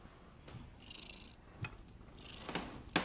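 A cat purrs faintly and close, a low rumbling hum under a few brief rustles and soft bumps.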